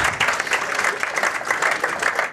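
A studio audience at a live special broadcast during the 31C3 congress breaks into steady, dense applause, many hands clapping together for the whole stretch.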